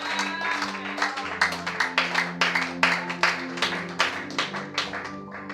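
A church congregation claps in a steady rhythm, each clap ringing out loud and close, over sustained organ or keyboard chords.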